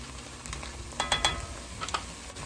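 Onion, celery, carrots and peppers sautéing on the stove, a soft background sizzle broken by a few short bursts of stirring clatter, with no voices.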